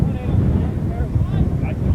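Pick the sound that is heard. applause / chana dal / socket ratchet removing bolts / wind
wind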